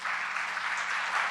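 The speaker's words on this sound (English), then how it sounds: "Give her a round of applause." Audience applause at a startup founder talk, a dense, even burst of clapping that fills the short moment on its own at close range.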